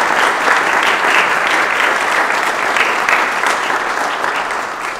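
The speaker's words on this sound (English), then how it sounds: "So if I can just have a small applause." Steady applause from an audience at a historic preservation awards ceremony, dense and continuous for the full stretch, tapering slightly toward the end with no speech over it.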